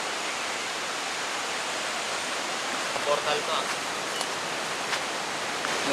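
A river flowing through foggy mountain forest makes a steady, broad rushing wash, continuous and fairly loud throughout, with faint brief voices and small sounds from nearby on top.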